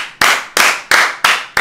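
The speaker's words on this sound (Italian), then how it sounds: "Un applauso qui, Daniele." Five loud, close hand claps at an even, steady rhythm, each sharp and ringing briefly, with no talking between them.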